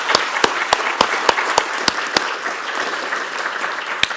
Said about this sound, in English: can I ask you for your applause for all our panelists.